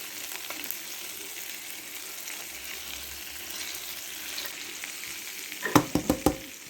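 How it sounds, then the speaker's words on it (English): Homemade Italian meatballs fry in a pan with a steady, soft sizzle, then a few sharp clanks and scrapes near the end as the pan is rolled around to turn them. "roll your pan around a little bit like that. Just kind of helps get them rolled around on different sides"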